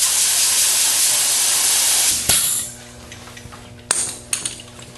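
A spray paint gun lays epoxy primer over bodywork on a car in a loud continuous hiss for about two seconds, then cuts off, followed by two short sharp spray bursts.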